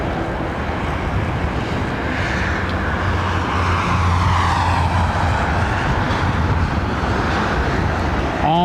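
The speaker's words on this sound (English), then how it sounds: "380 making a bit of a racket on the southern runway." Airbus A380 airliner roaring on the southern runway at Heathrow Airport, a loud, sustained broadband engine rumble heard from a distance, steady across the whole stretch with faint traffic noise mixed in.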